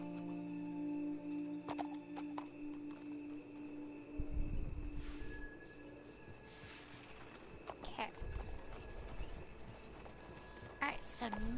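Horse hooves clip-clop in the Red Dead video game on a roleplay server, with uneven steps that pick up in the middle and again near the end, mixed under a person talking.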